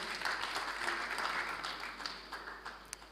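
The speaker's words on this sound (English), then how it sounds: "Please, can we give them a round of applause?" Agriculture conference attendees give a round of applause, a moderately distant, even clapping that gradually thins out into a few scattered claps over about three seconds.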